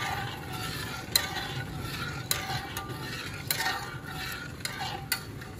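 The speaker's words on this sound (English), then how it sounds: "I'm just going to be here, just keep stirring." A spoon stirring sugar syrup for zucchini relish in a pot, with steady scraping strokes and sharp clinks against the pot side over a low simmering hiss, close and moderately loud.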